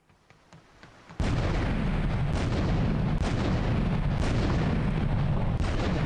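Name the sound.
gunfire in Grand Theft Auto 3 video game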